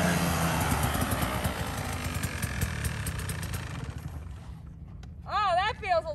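A KTM 150 XC-W two-stroke dirt bike engine runs with a rough, buzzing drone that fades over several seconds before a person briefly speaks.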